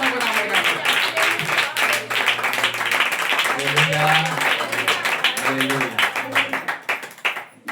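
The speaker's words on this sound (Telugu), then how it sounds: "నీ కుటుంబ విషయంలో నమ్మిన చప్పట్లు కొట్టు" A church congregation claps hands in fast, dense, sustained rhythm, loud and close, with a voice speaking over the clapping throughout.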